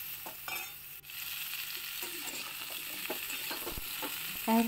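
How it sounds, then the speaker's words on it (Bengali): Cauliflower and potatoes fry in a pan with very little oil, giving a steady quiet sizzle broken by a few scraping stirs, with no voices. "তো ফুলকপির সাথে আমি আলুটাও এবার একটুখানি ভেজে নেব।"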